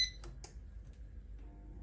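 An air fryer cooking zucchini noodles finishes with about three short, high electronic beeps in quick succession, faint and alone, then a quiet room.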